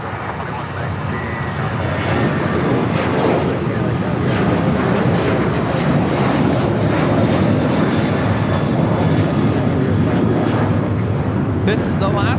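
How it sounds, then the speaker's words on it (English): An Alaska Airlines Boeing 737-800 takes off from LAX runway 25 right. A loud, steady jet-engine roar fills the whole twelve seconds, with voices speaking in places. "1305 taking off to Seattle on the 737-800."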